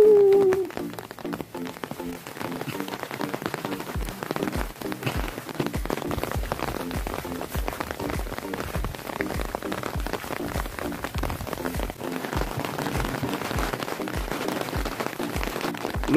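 Steady rain patters densely on a surface, with irregular drips and taps throughout; no voices.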